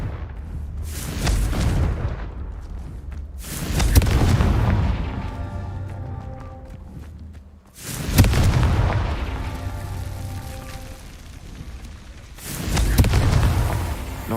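Explosive Confringo spell blasts from the game Hogwarts Legacy, four heavy booms spaced a few seconds apart, each with a sharp crack that decays into a long rumbling, crackling tail, loud and close with no talk.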